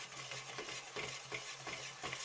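A stick blender mixing soap batter toward light trace, a soft continuous whirring churn with faint rhythmic pulses every half second, moderately quiet and with no talk.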